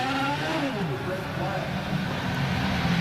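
An IndyCar engine on the throttle during a race at New Hampshire drones and revs with shifting pitch, heard as broadcast sound under a commentator talking.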